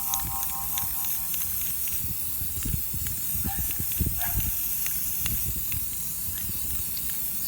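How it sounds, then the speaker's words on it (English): Spray paint hisses steadily from an aerosol can onto vent covers outdoors, a continuous close, loud spray with faint background noise. "I'm going to put a nice layer of spray paint on them"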